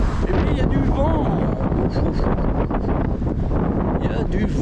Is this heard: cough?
no